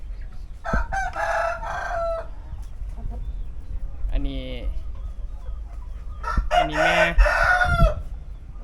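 Two loud rooster crows close by, with softer chicken clucking in between and someone speaking briefly in Thai in the background.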